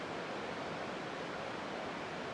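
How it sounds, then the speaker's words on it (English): Rushing water of the Nolichucky River beside a hiking trail, a steady, even broadband roar heard alone, moderately faint and unchanging. "So love the sound, the rushing water."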